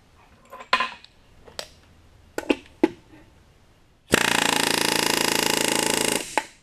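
Aluminum body panels are riveted with a rivet gun against a body dolly used as a bucking bar. A few sharp metallic taps come first, then a loud, steady hammering rattle lasts about two seconds before it stops.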